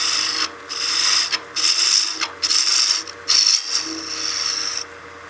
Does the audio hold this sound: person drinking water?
no